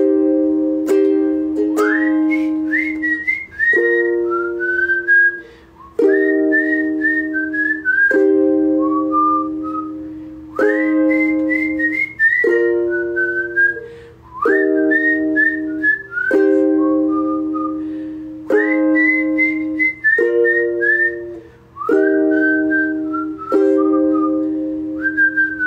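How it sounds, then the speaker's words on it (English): A whistled melody carried by a single clear, loud whistler, moving through repeated rising and falling phrases with short pauses between them, alone with no talk over it. "Whistles are super important in a song, I think."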